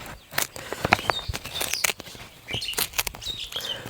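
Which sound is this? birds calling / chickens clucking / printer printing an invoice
birds calling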